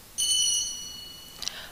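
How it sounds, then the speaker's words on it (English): A timekeeper's bell rings once at a debate, a single clear metallic ding with harmonic overtones that fades slowly, followed by a faint brief clink near the end; no speech. "Our timekeeper will ring the bell once to indicate you have 1 minute left."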